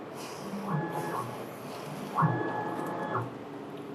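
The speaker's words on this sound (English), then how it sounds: "we place X home and test vertical calibration print" An inkjet printer, a FocusInc Alpha-Jet 14, prints a print head vertical calibration test, giving two steady mechanical passes with a whirring carriage tone, close and moderately loud against a low background hum.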